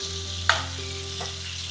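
Chicken pieces for a healthy shawarma frying in a pan, a steady low sizzle with a sharp clack around the half-second mark as they are flipped and a softer stir sound after.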